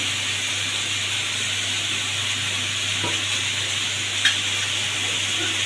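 Garlic and oil sizzle steadily on boiled rice in a pan, a continuous, even frying hiss with a couple of faint clicks and no voices.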